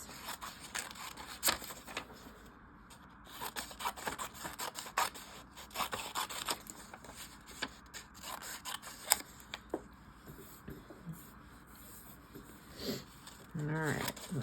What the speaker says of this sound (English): We're gonna cut, or have our adult help us cut the letters out